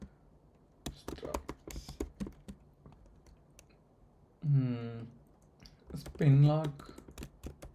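Keys clatter on a computer keyboard as C kernel code is typed, a close, light rapid tapping in bursts, broken by a voice talking over it twice.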